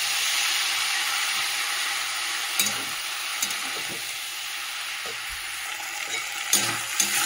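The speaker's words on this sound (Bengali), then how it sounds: "এই যে সবজি আর শাক আলু তো ভালো করে কষিয়ে নিয়েছি মশলা" Greens, mixed vegetables and potatoes with spices sauté in a pan, giving a loud, continuous sizzle. A few clinks and stirring knocks rise above it, and no one speaks.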